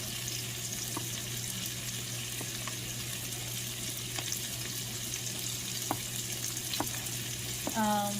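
Food frying in a pan at home gives a low, steady sizzle with a few sharp clinks and scrapes of stirring, fairly faint against a constant background hum.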